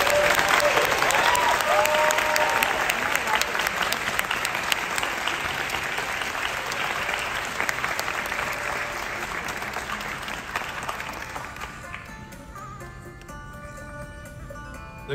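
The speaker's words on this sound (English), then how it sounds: "Let's give these students a round of applause." Sustained applause from an audience honoring students at a high school awards ceremony, steady and full for about twelve seconds before thinning out and fading into quieter scattered claps.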